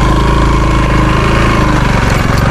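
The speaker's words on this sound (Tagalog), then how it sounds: "Lalo na yung aking motor pag narinig nila yung andar" A motorcycle engine runs steadily at close range, a loud, even idle-like drone with a regular low pulse throughout and no talking.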